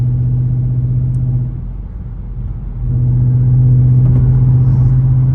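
A Ford Mustang S650 rolls over road bumps, its steady low engine and road rumble dipping briefly before swelling back, close and loud, with no talking.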